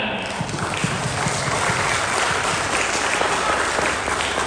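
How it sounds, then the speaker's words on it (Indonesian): Applause from a seminar audience at an anti-bullying school event with Boyolali police, steady dense clapping throughout that sounds close and full, with a crowd murmur underneath. "Sekali lagi beri aplaus semuanya"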